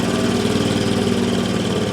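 A 1969 Land Rover Series 2a six-cylinder engine idling roughly, a loud, close, uneven chugging drone with a lumpy rhythmic misfire, steady throughout with no talking.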